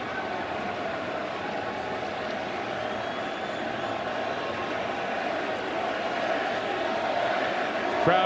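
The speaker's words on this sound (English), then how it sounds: "Crowd chanting his name." A stadium crowd at a 2021 World Series game in Atlanta, Astros against Atlanta, chants a batter's name: a steady, loud, dense roar of many voices that holds throughout and swells slightly toward the end.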